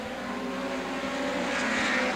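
Midget race cars roar around Star Speedway in a NEMA heat race, with a steady, loud, dense engine drone and no voices.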